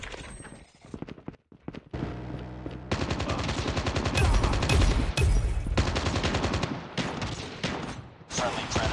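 Rapid automatic gunfire from a deployed sentry gun in a first-person shooter deathmatch rings out in dense bursts, loud and close, mixed with other game effects and shots.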